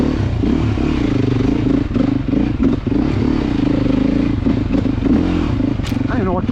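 A 2024 Beta off-road motorcycle is ridden, its engine droning loud and close with shifting pitch, clattering and thumps over rough ground, wind buffeting the rider's mic.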